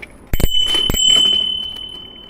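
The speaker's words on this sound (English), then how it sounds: "Little bell there." A bicycle bell gives a few quick rings up close, followed by a thin lingering ring and soft rolling background noise.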